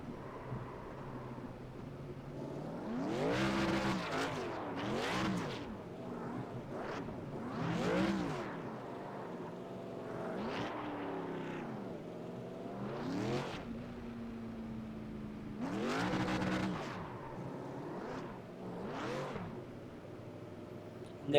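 The engine of the number 1 Coca-Cola Toyota Tundra race truck in iRacing at Chicagoland Speedway revs in repeated rising and falling bursts with steady drones between them, moderately quiet, with no voices.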